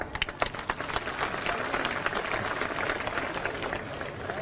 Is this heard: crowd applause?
yes